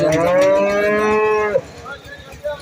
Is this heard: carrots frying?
no